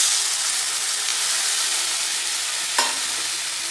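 Water hitting a hot pan while making luchi dough, a steady loud sizzle and hiss throughout with a brief sharper burst near the end, no talking.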